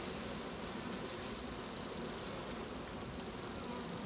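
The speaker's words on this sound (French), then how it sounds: "On appelle ça un essaim d'abeilles." A swarm of honeybees that has left an overfull hive buzzes in a dense, steady drone that stays close and loud throughout, with no voices over it.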